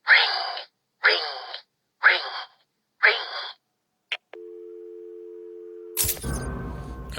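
A telephone ringing in the Batman game Arkham City: four evenly spaced loud electronic rings, followed by a brief click, a steady tone and then game noise.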